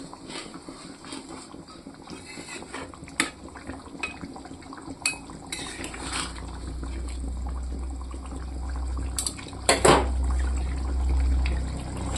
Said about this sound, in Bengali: অল্প জল দিয়ে দিয়েছি এটাতে।